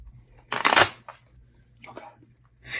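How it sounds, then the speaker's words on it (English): Playing cards riffle and snap in a couple of quick bursts, close and crisp, with brief pauses between. "he is going to shuffle these as well as our old used cards"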